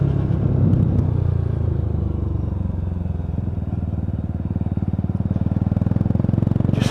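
Lexmoto Tempest GT motorcycle fitted with a low-mounted silencer exhaust, ridden on an icy road, giving a steady close engine drone with a fast pulsing throb that grows slightly rougher toward the end.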